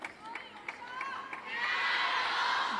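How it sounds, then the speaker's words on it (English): A crowd at a women's table tennis world championship match in Doha chants rhythmically for Sun Yingsha, the rhythmic calls building into a broad, sustained roar of cheering from the arena stands. "Plenty of support for her here in the crowd. You can hear them chanting her name."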